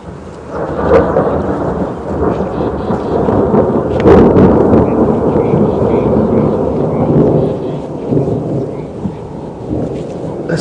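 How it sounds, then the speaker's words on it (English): Loud, close thunder rumbles and rolls for several seconds during an afternoon safari drive in an African game reserve, with sharp cracks and a long fading growl over light rain. "Listen to how awesome this thunder is."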